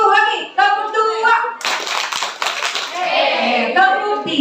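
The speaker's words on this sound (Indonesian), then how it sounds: "Tepuk 2." Parents at a kindergarten Quran-learning opening event clap along to a leader's call, crisp hand claps in a short rhythmic burst between spoken instructions and chatter.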